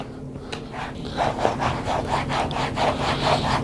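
Cleaner being rubbed into leather motorcycle chaps with quick, rhythmic back-and-forth scrubbing strokes, close and steady, with no speech.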